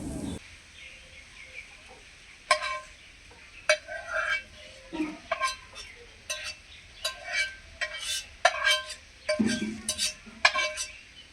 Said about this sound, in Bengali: পোলাওটাকে অন্য পাত্রে ঢেলে নেব